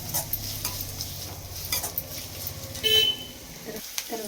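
Onions frying in a pan while being stirred, a soft continuous sizzle with scraping strokes of the spoon, close and fairly loud.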